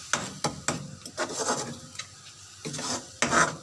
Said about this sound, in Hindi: मैं इसमें थोड़ा सा पानी ऐड करने लगी हूँ ताकि ये मसाले अच्छे से भून जाएं